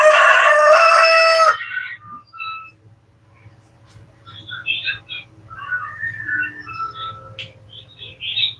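A rooster gives one loud, close crow in the opening second and a half, followed by quieter chirps and whistles of other birds scattered through the rest of the stretch.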